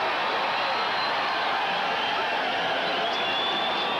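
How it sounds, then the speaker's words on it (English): Dense, steady roar of a football stadium crowd cheering at the 1988 Independence Bowl between Southern Miss and UTEP, a loud continuous wash of many voices with no pauses or distinct claps. "But the way the crowd's cheering"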